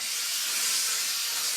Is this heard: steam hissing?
yes